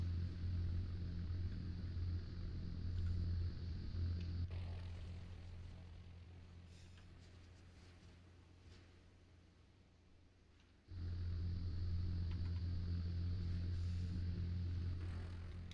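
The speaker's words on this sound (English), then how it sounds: "Car sounds 260." A car engine rumbles nearby in the Arma 3 Tanoa map at night, a steady low drone that fades somewhat for several seconds and then swells back to full strength, with no speech over it.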